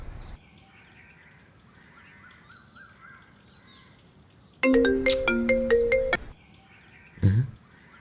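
A phone ringtone plays a bright electronic melody for about a second and a half against quiet background noise, followed by a brief louder blip.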